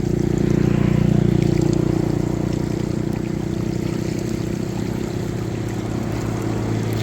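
Heavy flowing water in a rural stream during a day-and-night downpour, a steady close rushing roar with low rumble that holds continuously throughout.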